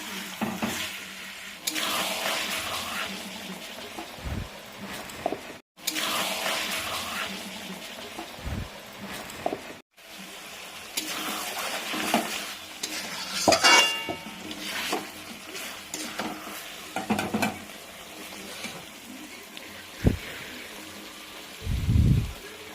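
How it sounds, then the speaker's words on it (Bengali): Kakra pitha, rice cakes stuffed with filling, fry in hot oil with a steady, loud sizzle and bubbling that runs throughout, with brief breaks and occasional clinks of utensils. "আর এই যে একদিকে কাঁকড়া ভাজা চলছে"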